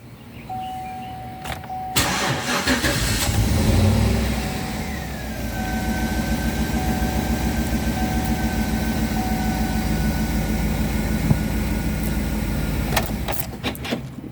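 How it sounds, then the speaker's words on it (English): A GMC Yukon starts with a new key: a chime sounds first, then clicks, a brief cranking surge and the engine catching into a steady idle hum, with a faint high whine and more clicks near the end. "So let us unlock, then start the car."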